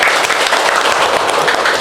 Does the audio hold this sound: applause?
yes